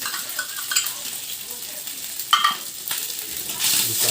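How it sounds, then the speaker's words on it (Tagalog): String beans for adobo being sautéed and stirred in a pan over low heat, a steady soft sizzle with scraping and clinking of a utensil against the pan, brief louder bursts of stirring, no voices. "Gisa-gisa muna tayo"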